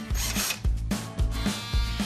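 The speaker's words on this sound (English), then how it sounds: "Let's drill the hole." A power drill bores a hole in a repeating cycle, with several loud bursts of whirring and grinding roughly every half second, each followed by a brief slowdown, close and with no talking.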